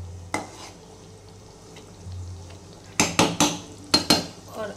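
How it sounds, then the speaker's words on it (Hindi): A ladle stirring egg and palak curry in a pan, with a short run of close scraping and clinking strokes against the metal after a quiet start, over a faint cooking hiss. "और इसे हम इस तरीके से चलाते हुए छुरनी से मिक्स कर देंगे।"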